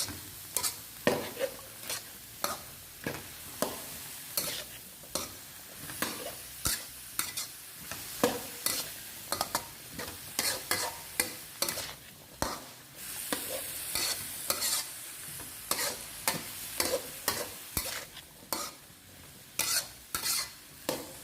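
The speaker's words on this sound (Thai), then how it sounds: "ผงปรุงรสผัดคลุกเคล้าทุกอย่างให้เข้ากันดีเลยค่ะ" Minced pork stir-fried with seasoning powder, oyster sauce and soy sauce in a pan, a quiet sizzle under a brisk, repeated rhythm of spatula scrapes and clacks, close and continuous.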